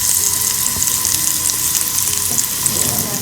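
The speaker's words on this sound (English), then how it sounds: "we are going to saute our carrots for a couple of minutes" Carrots sauteing and searing in a hot pan, a steady close sizzle with faint crackles and stirring, no talking.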